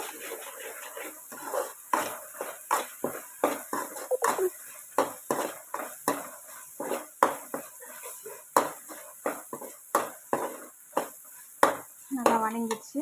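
Country chicken gravy ingredients being sautéed in a pan, with a utensil scraping and clanking against the metal in a steady, repeated rhythm of sharp strokes close up, with no voice.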